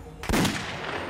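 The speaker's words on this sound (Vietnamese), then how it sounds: "thì phát hiện phía xa có tiếng súng" A single sharp gunshot cracks out from a distance, followed by a rolling, reverberant echo that fades slowly, moderately loud and alone without speech.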